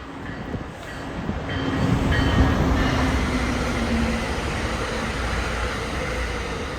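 A DC Metro train at Rockville Station rumbles steadily along the rails, a loud, continuous rolling roar with faint tonal whine above it, building slightly and then holding without pause.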